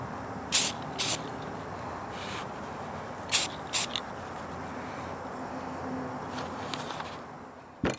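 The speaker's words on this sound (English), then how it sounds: "give it its fresh coat of satin spray paint" Short bursts of satin spray paint from an aerosol can hiss onto a Lionel F3 Amtrak model train shell outdoors, four distinct sprays in the first half followed by fainter puffs, over a steady background.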